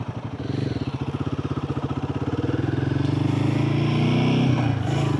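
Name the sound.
Guerrilla 450 motorcycle riding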